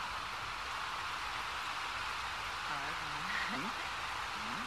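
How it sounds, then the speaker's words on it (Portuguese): Steady hiss of rain in The Sims 4 falls throughout, with a person's voice briefly talking over it partway through. "esse barulho é da chuva do jogo"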